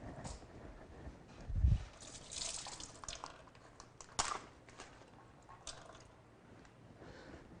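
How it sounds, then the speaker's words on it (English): Water is poured off a block of tofu from its package, a faint, brief splash and trickle followed by scattered drips and light handling noises. "So the tofu is stored in water. So I'm going to open and then I'm going to pour the water off"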